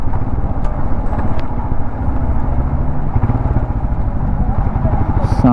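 A Royal Enfield Himalayan 411 motorcycle out on a road ride, giving a steady low engine thump and rumble mixed with wind noise at constant loudness, with no talk over it.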